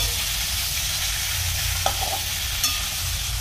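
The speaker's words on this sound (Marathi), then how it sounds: "यामध्ये आपण चिकन आहे तर 2 मिनिटं फक्त परतून घेऊया। फुल फ्लेम ठेवली मी, यामध्ये आता मी परतवणार।" Chicken pieces stir-fry in a pan over full flame, a loud steady sizzle close by with faint scrapes of stirring.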